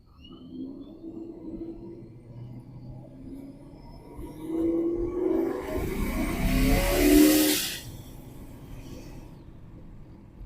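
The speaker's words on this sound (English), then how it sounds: "let off the gas and the blow off valve does its job and lets it all out" A turbocharged car revs and accelerates on a quarter throttle, the engine note rising to a loud broadband rush near the end before the blow-off valve releases boost and the sound drops back to a steady idle.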